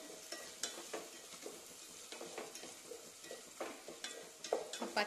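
Onions sautéing with turmeric powder in a pan, a steady close sizzle broken by repeated scraping stirs of a spoon against the pan, with no voices.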